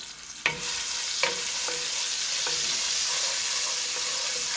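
Garlic fries in hot oil in a pan with a steady, close sizzle, broken by a few soft scrapes and taps from stirring.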